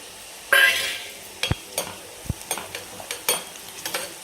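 Mustard seeds, cumin and coriander powder hit hot oil with a sharp sizzle, followed by scattered pops, crackles and spoon-against-pan clinks as the spices fry close by.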